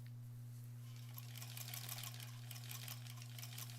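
A sewing machine stitching an embroidered swan zipper pouch runs with a steady low motor hum and a fast, even needle clatter that grows louder partway through.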